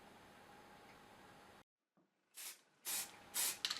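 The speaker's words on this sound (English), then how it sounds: "The main castings and the wagon base plate are sprayed with Halford's white primer." Halfords white primer is sprayed from an aerosol can onto die-cast model truck castings and a wagon base plate in three short, close hissing bursts after a faint background hum.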